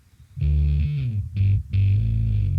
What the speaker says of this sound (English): That's this guitar with a whammy pedal pitched down an octave.